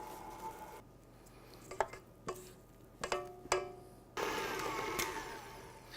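Stand mixer creaming peanut butter and jelly cookie dough: sharp clicks and clacks as the bowl locks in place, then a steady whirring hum of the motor running near and fairly quiet, no voices.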